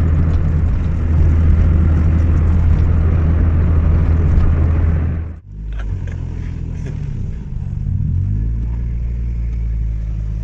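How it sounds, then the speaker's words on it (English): Three cars drive together in a small cruise, their engines droning loud and close in a steady cabin rumble that dips briefly, then continues with shifting engine tones. "Got a nice little 3-car cruise going on."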